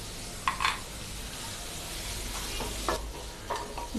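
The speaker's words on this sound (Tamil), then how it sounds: "இப்போ நல்லா வதக்கிட்டே இருங்க." Raw banana pieces stir-fry in a pan for a Tamil vazhakkai poriyal, with a soft continuous sizzle and a few quiet scraping stirs of a spatula. The cooking sounds are faint and close, with no talking.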